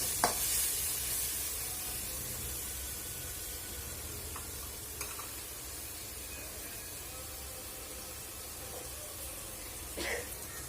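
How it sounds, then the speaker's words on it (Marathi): Masala for Kolhapuri misal sizzles as it is sautéed and stirred in oil, a soft, steady frying hiss broken by a few faint scrapes and clinks of the spoon, with no voices. "आता सर्व मसाला परतून घ्यायचा आहे"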